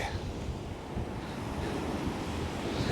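Waves wash continuously onto Chesil Beach while steady wind rumbles across the microphone, a constant, full, close roar.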